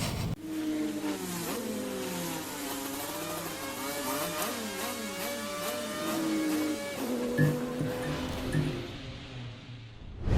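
A prototype race car on a circuit in northern France revs hard, the engine note rising and falling through gear changes as it accelerates, loud and close throughout with no talk.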